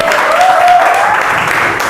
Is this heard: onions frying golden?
no